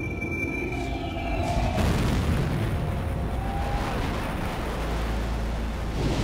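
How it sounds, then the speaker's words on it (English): A huge Big Bang explosion sound effect opens with a sudden deep boom, then settles into a loud, sustained roaring rumble that fills the whole stretch without speech. "The Big Bang."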